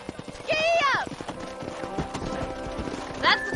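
Rhythmic hoofbeats of a galloping horse with a whinny in Red Dead Redemption, over background voices and game ambience.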